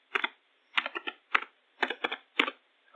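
Quick bursts of computer keyboard typing arrive in five short clusters, each a rapid patter of key clicks separated by brief pauses, close up and clear with no voices.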